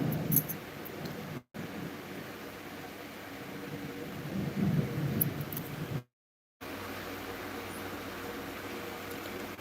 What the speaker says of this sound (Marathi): इकडे कोकणात पाऊस पडायला सुरुवात झाली आहे